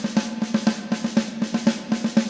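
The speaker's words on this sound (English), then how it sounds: "the snare drums are playing a different rhythm, which people call a gallop rhythm because it sounds like a horse galloping" Orchestral snare drums in a heroic soundtrack play a steady, repeating gallop rhythm, crisp clustered hits recurring about four times per second, loud and alone.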